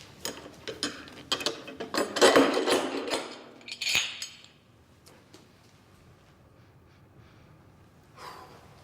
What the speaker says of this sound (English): So this is one of our casks that we're going to open.